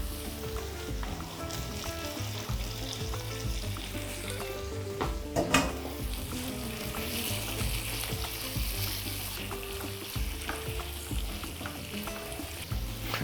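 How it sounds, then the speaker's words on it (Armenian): Pieces of boiled meat frying in a pan with oregano, a dense continuous sizzle with crackling pops and one sharp burst of spitting oil, no speech. "Մսակտորները անմիջապես տեղափոխում ենք տապակի մեջ։"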